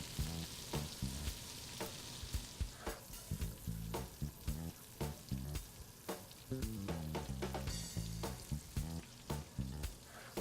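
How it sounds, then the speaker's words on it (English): Scallops sear in a hot pan for seafood pasta, giving a loud, continuous sizzle broken by frequent clattering pulses from stirring or moving the pan, with no voices. "You're gonna wanna get a nice sear on those scallops, lock in all the flavor, just like so."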